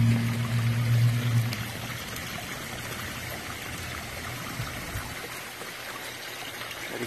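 Water spills over the bowls of a garden pond spillway, a steady close trickling and splashing flow that continues throughout, louder for the first moments.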